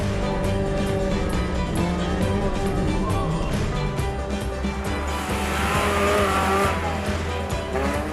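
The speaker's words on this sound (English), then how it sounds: "The gypsy we're riding in is fully capable of tackling this terrain, and can even go right over the small bushes and shrubs dotting the landscape." A Maruti Gypsy off-road vehicle drives over desert terrain in Rajasthan, its engine a loud, steady drone under constant rattling and crunching, with a brief hissing swell near the end.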